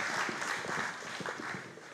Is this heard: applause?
yes